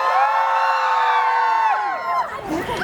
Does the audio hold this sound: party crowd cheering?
yes